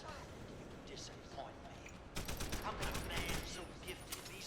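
Turret gunfire in Deus Ex: Human Revolution: a dense, continuous fusillade of rapid shots, steady throughout and growing louder and fuller halfway through, with game sounds mixed in.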